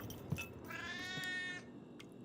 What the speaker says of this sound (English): There's our cat.